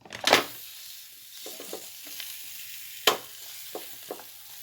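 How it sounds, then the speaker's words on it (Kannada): A mushroom paneer paratha set on a hot tawa gives a soft sizzle, with a sharp crackling burst as it lands, a second spike later and a few quieter clicks and taps between, close and without talking. "ಈಗ ಪ್ಯಾನಲ್ಲಿ ಹಾಕಿ, ತವಾ ಮೇಲೆ ಹಾಕಿ ಫ್ರೈ ಮಾಡೋಣ."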